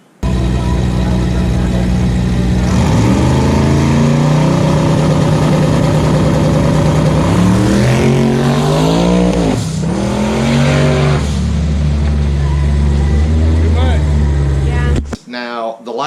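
A drag race car with onboard air boost control makes a track pass, its loud engine drone sweeping up and down in pitch through the run, then cutting off abruptly near the end.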